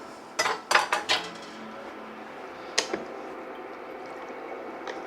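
A spoon clinks and scrapes against a pot while dehydrated taco pasta is stirred, a quick burst of several close metallic knocks followed by a couple of softer clinks.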